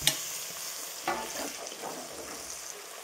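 Steady sizzling of chopped tomato frying in a hot pan, with a couple of soft clinks and stirring scrapes, close by and with no voices.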